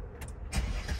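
A 2017 Mercedes-Benz SL 450 engine cranking and catching, a short starter whir then a deep low rumble rising into a steady idle, heard close up and alone.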